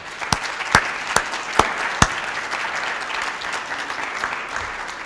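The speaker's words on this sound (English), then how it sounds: "So let's give those folks a big round of applause." An audience at a high school senior awards ceremony applauds steadily, a dense wash of clapping with a few sharper, louder claps standing out early on, sustained without talk.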